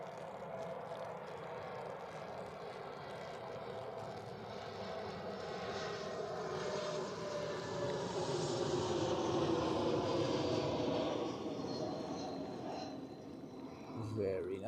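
A Helvetic airliner on short final landing at Zurich Airport, a steady, distant jet engine roar that slowly swells and shifts in pitch as it approaches, with faint radio-like voices in the background.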